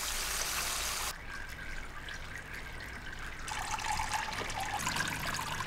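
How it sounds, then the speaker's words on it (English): An aquaponics pump sends water flowing through to the plants, a steady close rush and trickle that briefly softens before returning stronger and brighter, with no talk. "we can flick on the pump, get the water flowing through to the plants."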